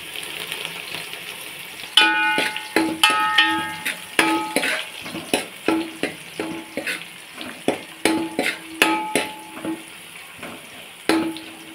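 Gongura leaves being stirred and fried with onions and green chillies in a pan for a gongura chicken fry, a steady sizzle broken by repeated sharp clinks and scrapes of a spoon against the pan, close and fairly loud.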